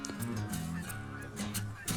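Geese honk repeatedly during a hunt on the Yukon, a loud, overlapping chorus of nasal calls with short gaps, the flock close and continuous through the whole stretch.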